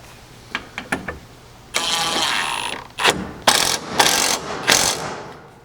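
A 3/4-inch socket and ratchet tighten bolts inside the bed of a 2022-or-later Toyota Tundra. A few quick close clicks give way to bursts of ratcheting with short pauses between them.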